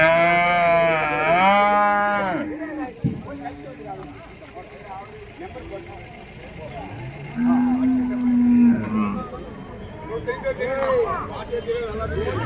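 Cattle low loudly and nearby at an Uthangarai cattle market in Tamil Nadu, a long wavering moo at the start and another deep call midway, amid someone talking and general market bustle.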